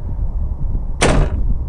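A door opening in the Ao Oni horror video game, one short sharp bright clack over a low rumbling background, brief and fairly loud.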